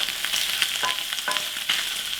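Pork belly fries in hot oil with a steady bright sizzle, broken by several small pops as the fat bursts, close and continuous with no voices.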